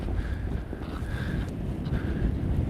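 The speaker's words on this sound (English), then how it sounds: "This is really, really windy." Strong wind buffets the microphone outdoors in a loud, steady low roar with gusting surges throughout.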